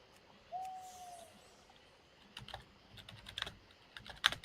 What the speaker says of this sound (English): Sorry if you can hear me typing on my keyboard.